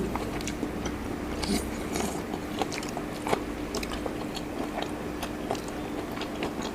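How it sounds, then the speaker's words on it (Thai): Someone eats fried pork belly yakisoba in close-up mukbang style, with soft wet chewing and small crunchy bites repeating irregularly. The sounds are steady over a low background hum, with no talking. "กินหมูสามชั้น"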